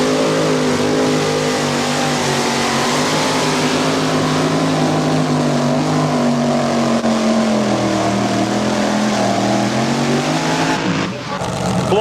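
A two-wheel-drive truck pulling tractor roars at full throttle through a long pull at a 1993 outdoor pulling event in Chapel Hill, loud and steady with a wavering engine pitch and a brief dip near the end.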